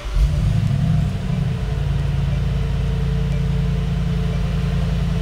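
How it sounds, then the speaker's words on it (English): A 2020 Mercedes-AMG G 63 SUV's engine fires up with a loud rumbling surge in the first second, then settles into a steady, close, low idle drone. "Now, if I start the car,"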